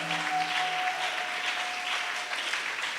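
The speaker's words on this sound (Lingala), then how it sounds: "Acclamons cette lecture de la parole." A church congregation at an evangelistic campaign service applauds after a scripture reading, sustained clapping of a crowd at moderate distance with a faint sustained tone under it.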